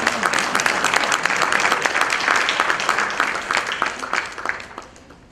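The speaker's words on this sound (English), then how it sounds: "A hand of applause as they go forward. The bigger you clap, the easier the network." Steady applause from a crowd at the 3rd Annual Eastern Cape E-Learning Summit, dense clapping throughout that thins and fades near the end.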